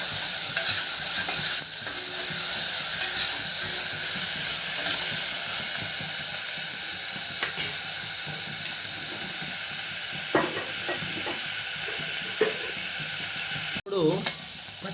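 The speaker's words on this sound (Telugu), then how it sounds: "దీన్ని బాగా కలిపి కొద్దిగా మగ్గనివ్వండి." Goat liver curry sizzles and fries loudly in a pan while a spoon stirs it, scraping and clinking at intervals over a constant hiss, ending with one sharp knock.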